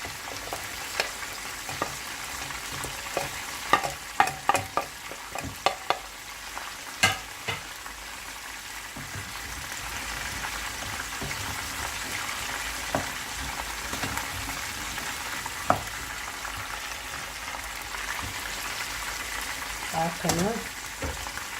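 Tomatoes fry in a pan with a steady soft sizzle throughout, and irregular stirring knocks and scrapes come mostly in the first half.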